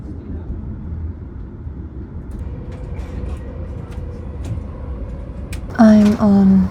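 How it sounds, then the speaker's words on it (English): A Swiss passenger train travels from Zurich to Bern, its steady low rumble and rolling hum filling the carriage, with faint clicks over the top and a brief louder tonal sound near the end. "I'm on train number 1 of 2 from Zurich to Bern"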